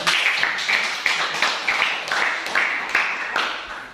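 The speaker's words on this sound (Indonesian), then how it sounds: "tepuk tangan untuk kelompok 3 dulu" A small classroom group claps in a loose, rhythmic pattern of repeated beats for a student group about to present, fairly close and steady throughout.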